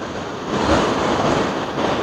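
Ocean waves surging up a beach toward a sea cave at Playa Arco near Uvita, Puntarenas, a loud, close rushing wash that swells midway, with wind buffeting the microphone.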